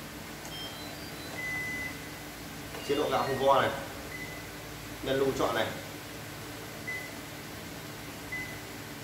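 A Japanese induction pressure rice cooker gives a few short, thin electronic beeps as its buttons are pressed. The beeps are faint and spread out, under someone talking over a steady room hum.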